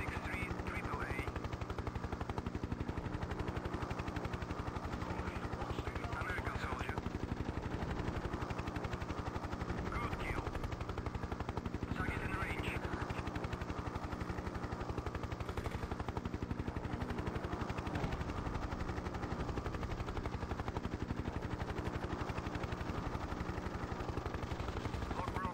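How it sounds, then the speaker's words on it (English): Gunfire from a Hind attack helicopter fires at infantry during a Korea convoy ambush mission in the 1996 game Hind. The shots crackle repeatedly over a constant, droning rotor and engine hum throughout. "There is something shooting at infantry"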